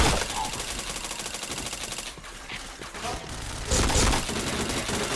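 Rapid gunfire in the online shooter game Point Blank, dense bursts of automatic shots forming a continuous rattling fusillade, with a louder burst near the end.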